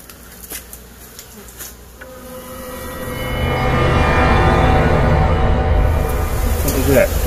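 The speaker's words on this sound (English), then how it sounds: "We got a mean bunch of bees here" A dense buzzing of many bees that swells louder after a few seconds and stays close and steady, with a few faint sounds mixed in.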